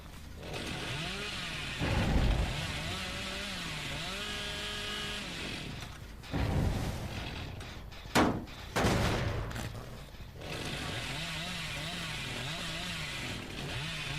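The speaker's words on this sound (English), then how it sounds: "Just love the chainsaw" A chainsaw in the Dead by Daylight horror game buzzes in repeated revving bursts, its pitch rising and falling in a looping pattern, broken by sharp impact-like thuds and brief gaps before the steady whine resumes.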